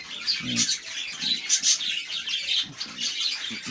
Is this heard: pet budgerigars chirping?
yes